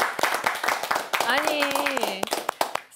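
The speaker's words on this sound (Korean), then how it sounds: "우리 하실 수 있게 박수 한번 쳐드릴까요?" An audience at a Catholic senior academy program claps in a quick burst of sharp hand claps, mixed under a speaking voice throughout.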